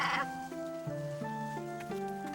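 Cartoon sheep bleat in a rising and falling wavering cry, close and clear, with no talking over it.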